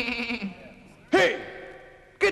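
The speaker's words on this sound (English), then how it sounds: "Get that goat out of here!" A goat bleats loudly and close by in two quavering cries, the second cut short, following a stretch of voices and music in a 1960s Melbourne jazz setting.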